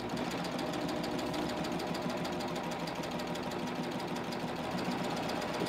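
A Baby Lock Ovation serger stitches and trims fabric with its knife blade, running continuously in a fast, even mechanical hum at close range.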